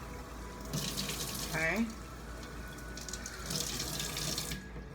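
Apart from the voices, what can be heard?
adding hot water to a small bottle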